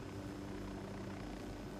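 Helicopter from the video game Ghost Recon Wildlands, a steady low rotor and engine drone filling the whole moment at a constant, faint level with no talk over it.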